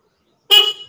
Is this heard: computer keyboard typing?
no